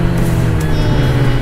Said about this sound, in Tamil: என்ன எக்ஸாஸ்ட், அது சரியான லவுடாக இருக்குது